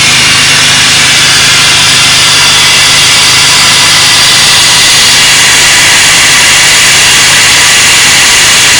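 Loud, steady broadband hiss of rushing air from a supercharged GM 3800 Series II engine, heard close up with a constant engine hum beneath it and no talking.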